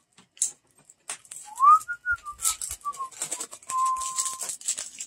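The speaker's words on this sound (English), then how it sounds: "Oh, it whistles too. Wow. What a tune." A bright, electronic-sounding whistled tune plays nearby: a few short gliding notes, then a long held tone, with light clicks and rattles around it.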